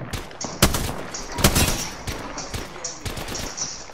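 Rapid bursts of gunfire from the battle royale game Apex Legends crack out in several volleys across the moment, sharp and fairly close, with faint speech-like game sounds mixed underneath.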